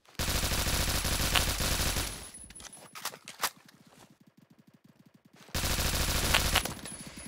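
Video game gunfire: a loud, dense burst of rapid automatic fire lasting about two seconds, then a lull with scattered shots and rattling, before another heavy sustained burst erupts near the end, with no talk.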